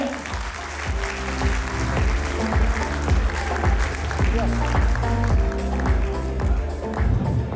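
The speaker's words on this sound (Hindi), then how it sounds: "परिवार के नए सदस्यों का जोरदार तालियों से स्वागत करें।" Loud, steady applause from a large crowd at a welcome event at a Jain centre in Udaipur, continuous throughout, with a rhythmic low thumping underneath.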